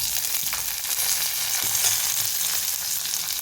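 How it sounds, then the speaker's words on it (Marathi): Chopped onion hits hot oil with cumin for a dhaba-style mixed vegetable dish, producing a steady, dense sizzle close by with faint stirring movements and no talking. "आता याच्यामध्ये आपण औभा चिरलेला जो कांदा आहे तो घालून घेणार आहे"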